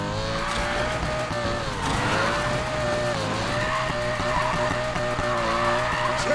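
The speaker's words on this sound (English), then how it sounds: "Do not lose this drift" A car drifting in a racing video game, with long sustained tire squeal over a revving engine, loud and continuous, pitch wavering as the slide goes on.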